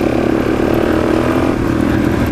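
Dirt bike engine droning steadily and loud throughout while riding a trail in the Black Hills National Forest, a continuous mid-pitched motor hum with no voices.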